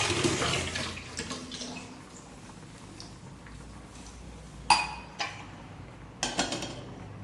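Water pours into a cooking pot of vegetable curry on a gas stove, a steady splashing rush for a few seconds, followed by several sharp metallic clanks of utensils.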